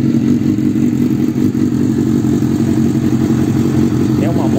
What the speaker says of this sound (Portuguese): Olha o ronco dessa moto